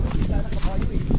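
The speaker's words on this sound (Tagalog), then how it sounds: "Oh, may kabayo nga dito." Horse hooves clip-clop on a rural path outdoors, a steady walking rhythm of close hoofbeats running under continuous conversation among people nearby.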